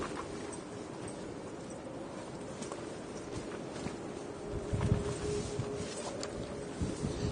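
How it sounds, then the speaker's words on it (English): Strong, gusty wind roars and buffets the microphone outdoors at Manchester Airport, a steady broadband rush with a stronger gust midway and no voices. "It's blowing a gale out here."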